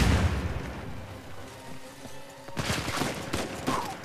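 Gunfire in the video game Uncharted 4 opens with a heavy boom that fades, then a rapid burst of shots returns strongly in the final second and a half.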